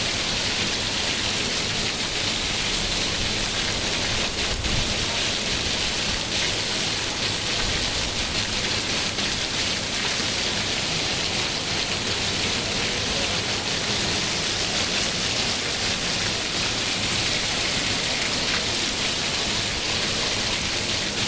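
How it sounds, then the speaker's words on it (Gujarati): Heavy rain pouring in Talaja, a dense, constant roar of falling water that stays loud and unbroken throughout, with no voices. "તળાજામાં વરસાદ શરૂ છે"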